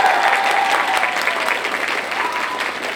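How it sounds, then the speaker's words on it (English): Audience applause at an anime festival cosplay contest in Wichita, a dense, steady round of clapping from a large indoor crowd that holds loud for the full stretch with no voices. "I'll make a big round of applause"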